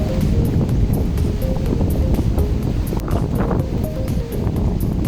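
Heavy rain pours at the seaside in the Mindanao countryside, a dense, hissing wash of noise with gusty wind buffeting the microphone. Faint voices come through now and then.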